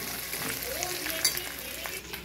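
Tomatoes and cumin frying in a pan while being stirred, giving a steady broadband sizzle with a few soft scrapes and a faint clink, close and continuous with no talking.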